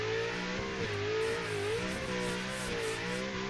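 A BDC V6 drift car engine in the Assetto Corsa racing game at Englishtown, revving continuously with a loud rasping tone that rises and falls through quick throttle blips.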